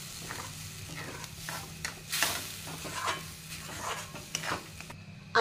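Dal fry mixture is stirred in a hot pan with a spoon, giving repeated scraping and swishing strokes over a soft, steady sizzle, close and fairly quiet, with no talking.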